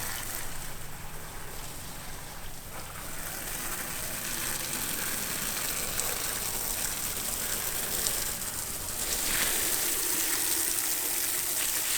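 A hose spraying water over a sailboat deck at a marina dock, a continuous loud hiss and splash that shifts in tone as the stream moves across surfaces.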